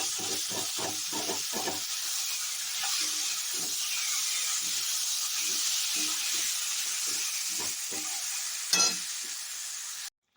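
Spices sizzle steadily in hot oil for a Bengali fish curry, a continuous bright frying hiss with soft low thumps of stirring early on and a brief sharper crackle near the end, no talking.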